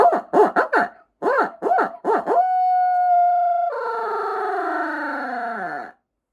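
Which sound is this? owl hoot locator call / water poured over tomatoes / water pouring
owl hoot locator call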